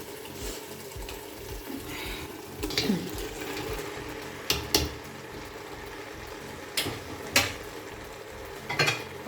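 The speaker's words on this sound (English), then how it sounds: "So now I'm just going to add in my meat." Meat goes into a pot of Nigerian okra soup stew: quiet stirring and scraping with occasional sharp clinks of utensil against the pot, fairly close, with no talking.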